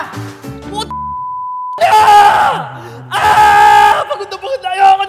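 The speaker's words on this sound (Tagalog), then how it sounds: "Sige na, sigaw tayo." Group of people shouting loudly together on a mountain in a comedy skit, two long bursts of yelling separated by a steady beep tone and short pauses.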